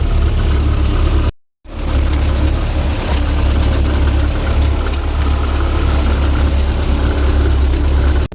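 A YuMZ tractor engine runs steadily at close range with a loud, even low rumble, briefly cutting out for a moment near the start before resuming, with no talk over it.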